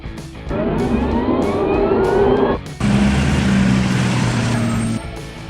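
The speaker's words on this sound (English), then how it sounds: "Hybrid car." A hybrid car drives past with rising whining tones over a low motor hum, then settles into a steadier hum that holds before easing off at the end. No one speaks.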